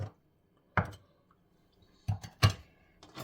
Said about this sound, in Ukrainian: Тепер беремо дві цибулини та нарізаємо їх.